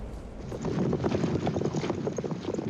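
Two horses pulling an ancient Egyptian war chariot clip-clop in a steady, fairly loud hoofbeat rhythm, with wind-like rushing noise underneath.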